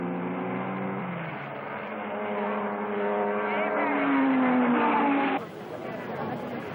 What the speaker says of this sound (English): A Morgan goes off the narrow track, and the Talbot of Comotti went on to win